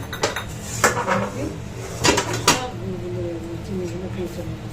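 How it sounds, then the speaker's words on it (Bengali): Metal pots and utensils clatter as a wok is washed while making mango pickle, with several sharp clanks over a steady background hum and a few quieter knocks. "কড়াই ধুয়ে আবার কড়াই বসানো হয়ে গেছে"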